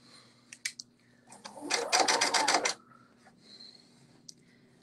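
A sewing machine runs a short, quick burst of stitching down a kimono's front seam, with a rapid rhythmic clatter of under a second, surrounded by a few faint clicks and fabric handling in a quiet room.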